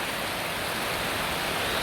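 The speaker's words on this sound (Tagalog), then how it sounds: "Ganito ang lakas ng ulan." Heavy morning rain pours down steadily in a dense, loud, unbroken hiss, close by and without voices.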